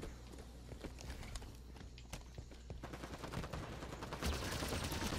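Busy Halo 5 multiplayer combat with a grenade thrown into a firefight, a dense, quiet wash of rapid gunfire cracks and small blasts running continuously and swelling louder toward the end.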